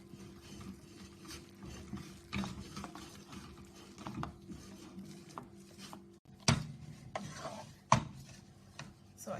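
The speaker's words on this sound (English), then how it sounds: "stir continuously until you get that perfect dough that you wanted" Churro dough of flour and milk is stirred in a bowl, giving soft irregular scraping and sticky dabbing, fairly close and quiet, with a few sharper knocks near the end.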